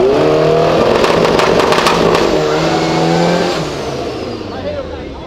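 A VW Gol, a Saveiro and an Audi TT race past, with loud revving engines that swell and then fade into the distance, while people talk over the noise.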